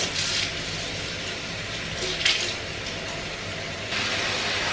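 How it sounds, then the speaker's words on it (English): Medium-hot water runs from a tap into a plugged kitchen sink, a steady close rushing splash that shifts slightly in tone and briefly swells, heard on its own without talking. "I'm gonna wash this in the sink. So just plug it here. Medium hot water."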